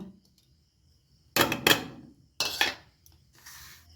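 Red lentil (masoor dal) fritter batter with salt, Kashmiri chilli powder, turmeric, green chilli and onion is beaten in a bowl: two short bursts of close clattering and scraping, then a fainter third, separated by near silence.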